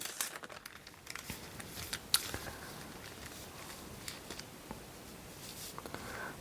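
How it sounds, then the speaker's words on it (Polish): A paper sewing pattern for a kitchen pot holder is folded in half on a work surface, giving soft, close paper rustling and crinkling in irregular bursts, with no talking. "Składam sobie na pół ten mój wykrój."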